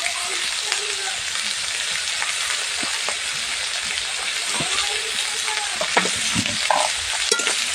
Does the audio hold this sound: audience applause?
no